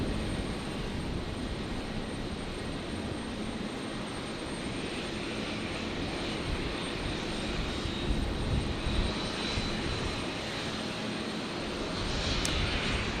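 Aircraft engines at Brisbane International Airport hum steadily at a distance, a broad continuous roar that holds evenly with no talk over it.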